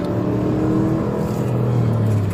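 A car fleeing police accelerates hard, its engine revving in a loud, close, rising drone that holds for a couple of seconds, with no voices heard.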